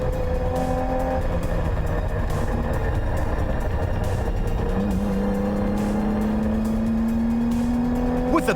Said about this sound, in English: We go on board with the BP Porsche 911R now as Brits chases down the Mercedes of Keane.